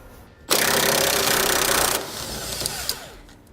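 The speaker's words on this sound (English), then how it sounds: "Now I'm going to be using an 18mm socket to pull it out." A power tool with an 18mm socket spins out a truck bed support bolt on a 2016 Chevrolet Silverado 2500 during a TorkLift tie-down installation, giving a loud, close, continuous buzzing whir for about one and a half seconds, followed by quieter rattling.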